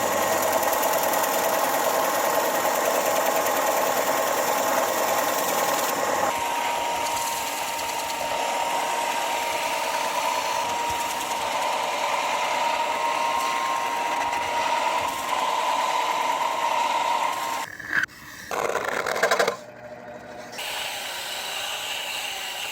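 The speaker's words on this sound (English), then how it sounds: "So we've diagonally sanded this groove on the upper foot side of the pedal for the hinge to sit in" A sander runs continuously and loudly at close range, cutting a diagonal groove into a wooden hammer dulcimer pedal. A steady mechanical whine lasts throughout, with brief dips and scraping near the end.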